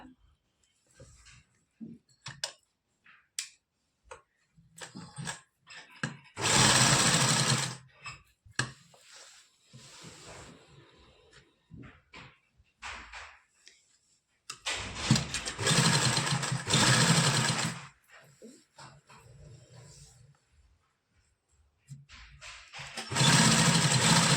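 A sewing machine stitches piping onto fabric in three loud bursts of whirring motor noise, separated by quieter gaps with handling sounds and some talking.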